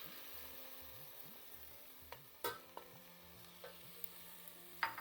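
Tomato pulp is stirred into a sautéed mix in a pan, heard as faint, scattered spoon scrapes and clicks over a very soft, low sizzle, with no voices.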